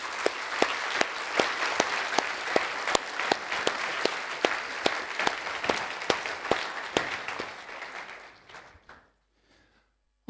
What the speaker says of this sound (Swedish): jag tycker att vi ger dem en varm applåd